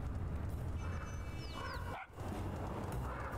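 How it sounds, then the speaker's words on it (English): Dog barking off to one side in the Little Kitty Big City video game, a couple of short yips and bow-wows over steady game ambience and music, with a brief dip in sound partway through. "Shut up over there, dog."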